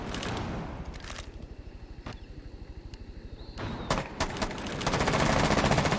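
Rapid automatic gunfire in a video game, a steady fast rattle of shots punching through a shield, with sharp louder cracks and clatter rising toward the end.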